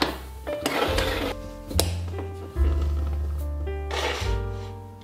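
Metallic clinks and scrapes as a stovetop coffee pot is screwed closed, a few sharp ringing taps over a steady low hum, close and fairly quiet, with no talk.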